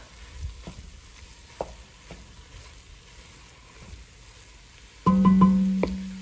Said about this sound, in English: we're just going to stir this around to kind of cook off some of the flour